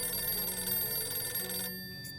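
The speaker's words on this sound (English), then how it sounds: "We need to ignore the phone calls," A telephone rings in the 60 Seconds! Reatomized video game, its bell tone layered over a dense game soundtrack for about a second and a half before cutting off, followed by a brief faint chirp.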